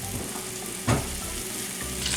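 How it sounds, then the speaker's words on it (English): Half-cut bacon strips fry in a pan with a steady, close crackling sizzle throughout, and one brief louder clatter near the middle. "While the bacon's cooking"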